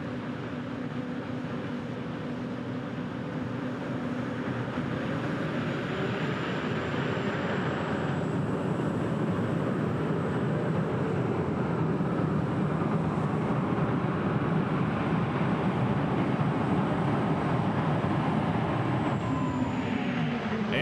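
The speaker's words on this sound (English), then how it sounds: "as Dave Walsh will come back here with a 2nd tractor called Old Red." A super modified pulling tractor engine roars steadily and loudly throughout at a tractor pull, a continuous heavy mechanical drone with no speech over it.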